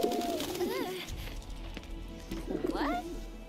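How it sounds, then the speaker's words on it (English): A bird coos in the video game Final Fantasy VII Intergrade, with two clear warbling coo phrases, one near the start and one near the end, set over low game ambience and music. "It's a bird!"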